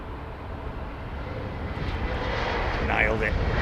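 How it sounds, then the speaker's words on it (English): An SAS Airbus A320neo airliner at London Heathrow gives off a steady, broad engine roar that builds gradually, moderately near, with the hum continuing throughout. "SAS 320 Neo."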